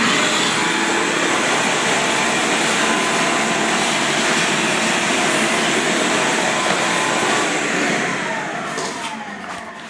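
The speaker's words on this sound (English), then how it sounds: "Grab my shop vac." Shop vac running in a workshop, a loud, steady roaring whoosh that holds for the whole stretch and tapers near the end, with no talk.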